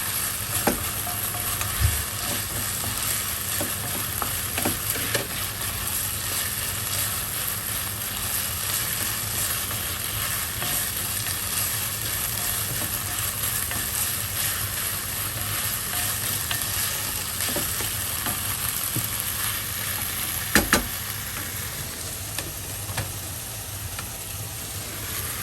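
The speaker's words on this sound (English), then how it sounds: "slap it a little bit around the skillet for a couple of minutes" Pad Krapow, a Thai stir-fry, sizzles and crackles in a skillet for a long, steady stretch, with occasional scraping knocks as it is moved around the pan and a faint background hum.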